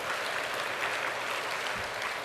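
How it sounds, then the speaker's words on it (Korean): A church congregation breaks into brief, evenly sustained applause during a Sunday sermon, moderately loud with no voices over it. "박수 한번 해요."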